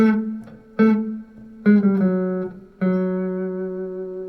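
A handful of plucked guitar notes, spaced apart, each ringing on clearly as the line steps chromatically down from one note to the next.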